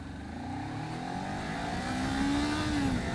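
A Kawasaki Ninja 400 pulls hard in first gear, its engine note rising steadily into the power band over a constant rush of wind, close and fairly loud.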